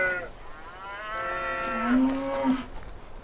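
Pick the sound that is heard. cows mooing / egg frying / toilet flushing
cows mooing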